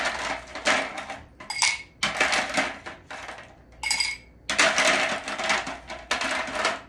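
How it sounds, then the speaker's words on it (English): Ice cubes clatter and crunch into a highball glass in several loud, bursty pours with short gaps between them, close up and alone. "We're going to fill this highball glass up with ice."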